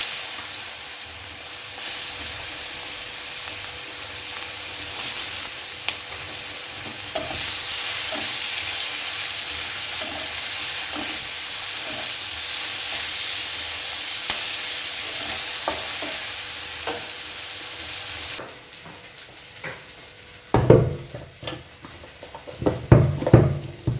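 Fish frying in a pan gives a continuous loud, even sizzle and hiss for most of the stretch. Near the end it gives way to quieter background with a few louder clatters and knocks.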